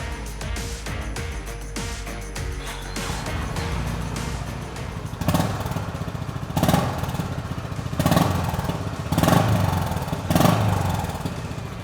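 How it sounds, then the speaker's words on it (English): A Honda motorcycle engine with a black upswept exhaust runs close by, a steady thumpy note that swells in several repeated revs, each rising and falling back to idle. "If you're looking for that thumpy exhaust note from this engine, it has that deep note."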